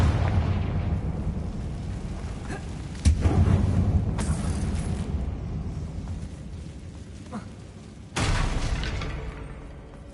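Confringo spell blasts in Hogwarts Legacy inside an abandoned mine that looks like a tomb: a few booming explosions, each a sudden loud burst that trails into a rumbling decay, spaced several seconds apart over a steady low background.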